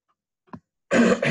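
A brief allergy-related throat-clearing sound, followed by a short, rough cough burst close to the microphone.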